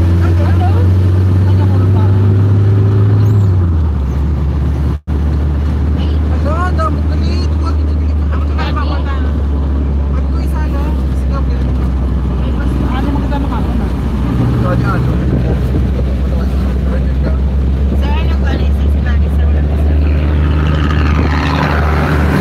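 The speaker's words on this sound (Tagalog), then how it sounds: "The truck of the sugar cane." A sugar cane truck rolls past with a heavy, continuous low engine rumble whose pitch drops as it goes by, and people talk over the noise throughout.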